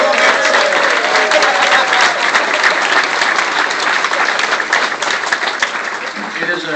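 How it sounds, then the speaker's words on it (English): A crowd at an evening award gathering for a Navy veteran claps loudly for a guest author, thick sustained applause close by that fades slightly toward the end, with murmured voices underneath. "Everybody give Sonny a round of applause."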